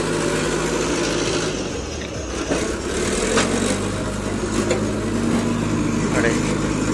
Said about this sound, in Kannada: JCBಯಲ್ಲಿ ತಂದು ಹಾಕ್ತಿರೋದು.